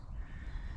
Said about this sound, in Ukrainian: І птахи таки активізувались